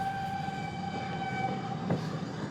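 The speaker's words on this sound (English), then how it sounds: "I can hear trains." A train sounds near a Victorian railway tunnel, heard as a steady rumble with a sustained tonal whine or distant horn-like note, faint and somewhat distant, with a brief thud near the end.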